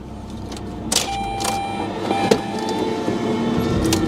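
An RV engine idles steadily after restarting, low on coolant, with a continuous rumble and a few sharp clicks and knocks on top, nearby and fairly loud.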